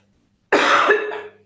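A single sharp cough erupts close to the microphone after a moment of silence, with a brief raspy tail as it dies away.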